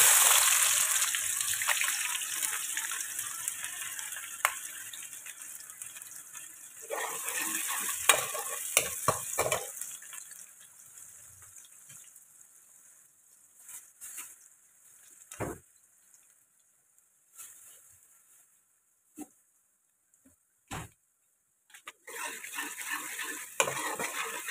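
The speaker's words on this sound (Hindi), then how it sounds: "ऑयल गर्म हो गया है तो मैं डाल दूंगी प्याज" Chopped onions hit hot oil for beef qeema with a loud initial sizzle that soon dies down, followed by scattered stirring clinks and scrapes of a utensil in the pan over quieter stretches.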